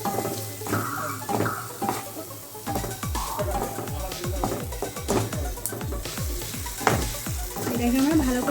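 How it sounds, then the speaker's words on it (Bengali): Tomato sauce fries with onion, ginger and garlic in a pan for paneer, giving a close, continuous sizzle broken by rapid rhythmic spatula scrapes and knocks against the pan. "এটাকে আমরা ভালো করে কষিয়ে নেব।"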